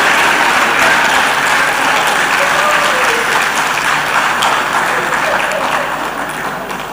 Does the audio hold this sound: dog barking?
no